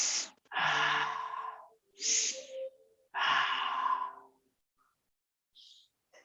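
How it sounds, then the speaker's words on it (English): Deep breaths in an exercise class, three long airy inhalations and exhalations close to the microphone, separated by short quiet gaps, with a faint breath at the end. "Breathe in."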